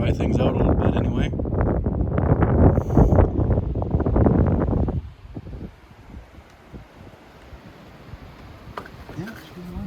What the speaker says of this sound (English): It's nice windy. I mean, it's a warm, windy day.